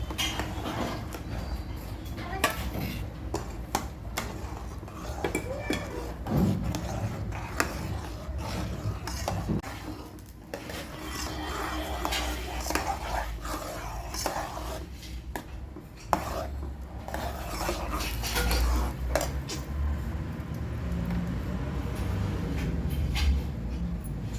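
Bombay semolina is poured slowly into boiling water and stirred in a pan for rava kesari, producing a long, uneven run of close scraping and stirring scuffs with soft bubbling and no talk.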